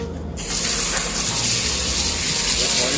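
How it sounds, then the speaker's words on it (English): Water from a hose sprayed at a person, a loud, steady gushing rush that starts abruptly and keeps going to the end. "I will spray you again."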